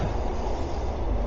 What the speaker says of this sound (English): train going by, folks,